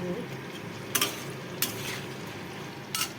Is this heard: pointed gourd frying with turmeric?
yes